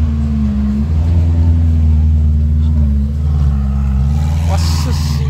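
A Ferrari engine rumbles loudly and close by with a deep, steady idle that rises and dips slightly in pitch, while people talk over it.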